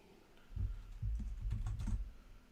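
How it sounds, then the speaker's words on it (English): Bursts of rapid, mashed keypresses on a computer keyboard, clattering in uneven clusters at close range with no talk. "I always just mash my keyboard when I save the screenshot"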